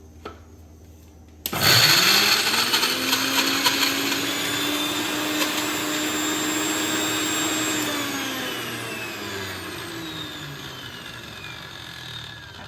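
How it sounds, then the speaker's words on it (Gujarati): A kitchen mixer grinder whirs loud and steady as it grinds a spice paste for a spicy masoor lentil curry, starting abruptly and holding an even motor whine before easing slightly toward the end. "બસ સિમ્પલી આને મિક્સરમાં. બસ હવે આપણે આને પીસી લેવાનું છે."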